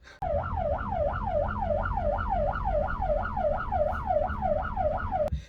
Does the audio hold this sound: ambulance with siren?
yes